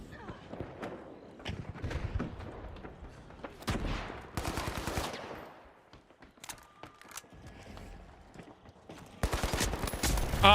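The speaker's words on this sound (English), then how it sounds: "That shotgun has some range on it" Shotgun blasts and other gunfire in a video game firefight, several loud sharp bursts scattered among quieter game noise, with a voice talking over parts of it.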